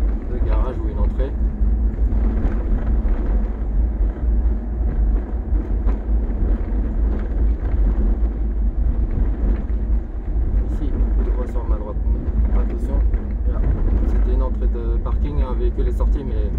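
A car accelerates in town through first and second gear, its engine rumble rising under steady wind noise while someone talks over it throughout.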